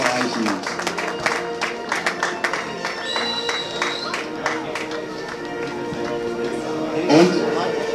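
Applause from a football stadium crowd during a BFC Dynamo versus Budissa Bautzen match, brisk clapping over a busy, echoing background with a constant hum, while people talk throughout.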